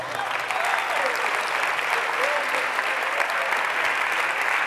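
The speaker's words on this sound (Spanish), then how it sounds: "Dale un aplauso al Señor." A church congregation claps for the Lord during a sermon, sustained, loud, even applause with a voice calling out over it.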